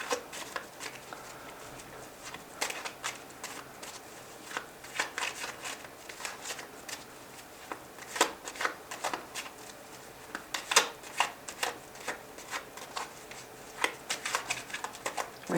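A tarot deck is shuffled by hand, with quiet riffling and soft card slaps in irregular bursts, close and faint, with no talking.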